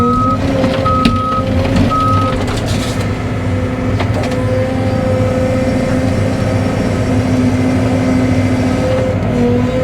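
A Cat 313 excavator reverses while demolishing a shed, its backup alarm beeping in a repeated rhythm over a constant heavy diesel engine rumble, loud and near throughout.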